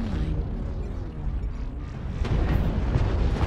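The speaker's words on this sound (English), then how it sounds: "Artillery strike." Artillery strike in MechWarrior Online landing as a continuous low rumbling barrage of booms, loud and dense, building toward the end with no talk.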